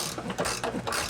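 Quick repeated ratcheting of a 19mm wrench snugging trailer hitch bolts on a 2022 Chevrolet Trax, several close, crisp clicking bursts in an uneven rhythm with no talking.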